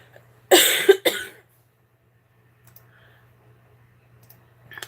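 Two sharp, close coughs in quick succession, followed by near silence with faint clicks.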